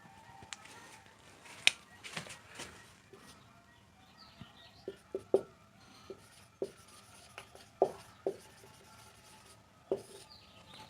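Chalk or marker strokes on a board, some sharp and squeaky, come in scattered bursts with quiet gaps between them, heard close in a quiet room.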